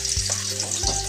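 Food sizzles steadily in a hot pan, a continuous close crackle with small shifts as it is stirred.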